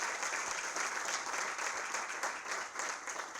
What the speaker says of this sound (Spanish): un aplauso para Erika y Orlando